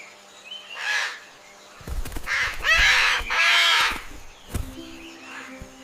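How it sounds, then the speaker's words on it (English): Parrot calling, several harsh squawks and raspy cries close up, with a few sharp knocks and clicks between them. "It's a parrot."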